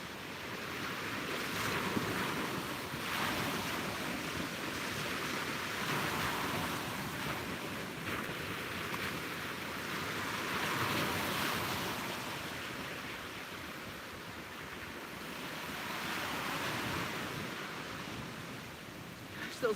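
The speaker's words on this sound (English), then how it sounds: "Those waves are crashing so beautifully right in front of us" Ocean waves crash and roll onto a beach at sunrise while wind buffets the microphone, a continuous roaring surf that swells and recedes in slow surges with no voices.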